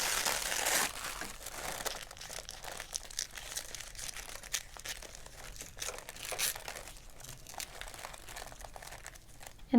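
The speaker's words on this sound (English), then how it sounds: "I can just tear this away." Stabilizer backing being torn away from sewn vinyl stitches, a continuous close crinkling and ripping of paper-like material, fairly loud and steady with no talking.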